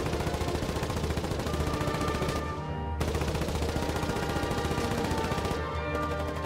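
A tank-mounted machine gun in the Foxhole war game fires long, continuous rapid bursts, loud and close, with dense rattling shots that stop briefly twice before resuming.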